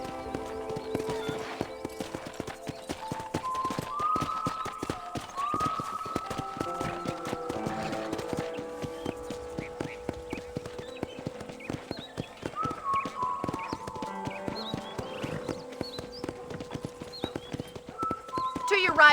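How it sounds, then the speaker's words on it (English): A horse is ridden in the video game Red Dead Redemption with steady rhythmic hoof clip-clops and an occasional whinny, running under a game soundtrack and spoken dialogue. "let's see if you can still ride a horse"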